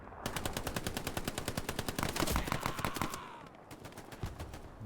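A Browning automatic rifle fires a long rapid automatic burst in Hell Let Loose on Utah Beach, crisp evenly spaced shots for about three seconds, then a brief pause before a few more spaced shots.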